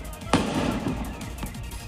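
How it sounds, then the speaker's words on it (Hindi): A refrigerator compressor bursts during a fire in a closed shop, giving a single sharp bang that cuts through a steady, loud roar of background noise. "आग के बीच हुए तेज धमाकों ने लोगों को दहशत में डाल दिया।"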